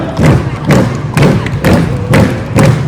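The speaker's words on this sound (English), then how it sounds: "Everybody goes as fast as they can. Clap, clap, clap, clap, louder!" A night crowd at Darling Harbour in Sydney claps and stamps together in heavy, rhythmic thuds, about six loud beats in a row, with cheering voices between them.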